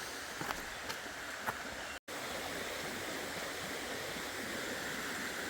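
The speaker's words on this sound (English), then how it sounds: "I just crossed one little stretch of the creek where it separated." Creek water rushes and burbles steadily over stones on a trail, a continuous close wash broken by a brief cut, with a few faint clicks early on.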